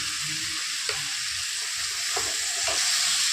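Sliced vegetable sizzles steadily as it is sautéed with masala in a hot pan, a continuous loud frying hiss up close with a few faint scraping stirs, no voices.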